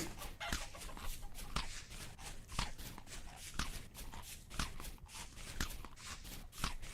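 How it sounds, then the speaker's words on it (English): A chicken clucks softly in the survival video game Rust, mixed with steady in-game footsteps crunching in an even rhythm throughout. The sound is faint and continuous. "Oh, there's a chicken."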